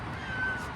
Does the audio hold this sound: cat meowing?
yes